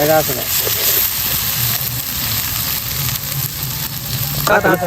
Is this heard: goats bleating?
no